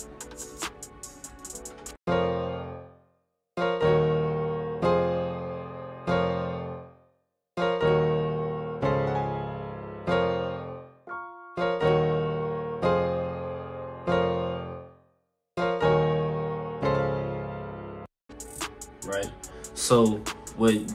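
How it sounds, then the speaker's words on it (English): A Pop Clean Studio Piano from Analog Lab plays separate chords for a soul sample. Each chord rings clearly and decays before the next, with short gaps between them and no voices. "Pop Clean Studio Piano, and it sounds like this."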